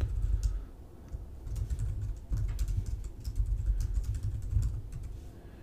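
Rapid, irregular keystrokes clatter on a computer keyboard as a username and password are entered, close and clear, with short pauses between bursts of typing.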